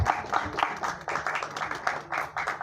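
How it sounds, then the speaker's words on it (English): Audience clapping for speaker Kushal Kulkarni at a talk event, a fairly quiet, uneven patter of hands from a modest crowd, pulsing in loose bursts with faint voices underneath. "Let's give a round of applause for Kushal Kulkarni."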